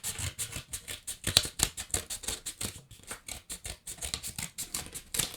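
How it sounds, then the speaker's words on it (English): Scissors snip through a paper plate at close range for a flower craft, a fast run of crisp, evenly spaced cuts that keeps going with no voices over it. "I'm going to cut starting inside my plate like this"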